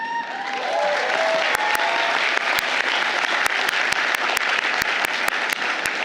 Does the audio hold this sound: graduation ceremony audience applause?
yes